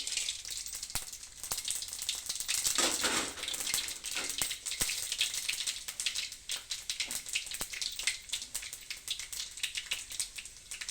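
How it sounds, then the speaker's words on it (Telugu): Mustard seeds and other whole tempering spices sizzle and crackle in hot oil for drumstick-leaf stir-fry, a dense steady hiss peppered with sharp pops, close and fairly loud, with no voices. "వేడి అయిన తర్వాత పోపు దినుసులు మొత్తం ఇందులోకి వేసుకోవాలి"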